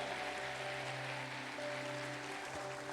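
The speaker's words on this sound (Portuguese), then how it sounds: "Dê uma salva de palmas a Ele bem forte, aleluia." Congregation at a church worship service clapping loudly and continuously, the applause mixed with sustained tones from instruments or amplification.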